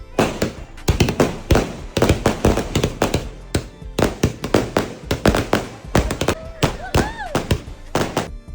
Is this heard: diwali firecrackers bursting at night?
yes